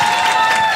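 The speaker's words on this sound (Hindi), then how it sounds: "जोर से ताली बजाओ" A comedy-show audience bursts into a short, dense round of clapping, a brief steady patter of many hands.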